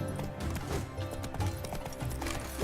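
Horse hooves clip-clop in The Witcher 3 video game, a steady run of hoofbeats mixed loudly with a dense game soundtrack throughout.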